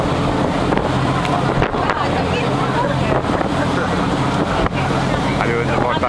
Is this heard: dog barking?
no